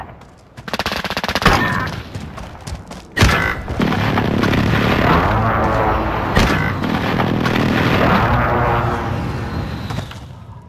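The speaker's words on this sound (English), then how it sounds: "Friendly precision airstrike on the way." Heavy gunfire and explosions from a precision airstrike in Call of Duty Modern Warfare search mode, with rapid bursts of shots, then a sustained loud barrage of blasts and automatic fire.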